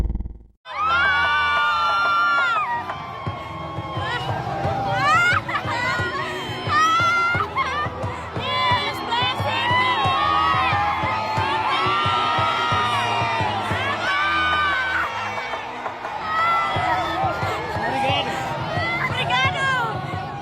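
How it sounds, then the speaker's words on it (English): Massive crowds in East Timor roar and cheer continuously as Pope Francis is driven past, with shrill shouts and whoops rising over a dense, loud wall of voices. "The sound there of the Pope being driven through massive crowds in East Timor on Monday"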